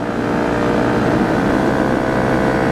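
Honda CRF250L motorcycle engine held at steady highway speed around 100, a loud continuous drone with even harmonic tones and wind rush throughout, no talking.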